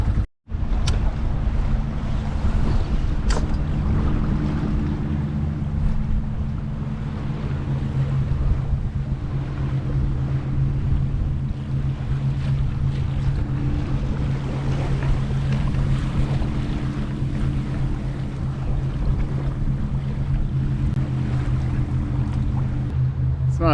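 Gusty wind buffets a sailboat making way upstream, mixing steady wind rush and microphone buffeting with a low hull and water drone throughout.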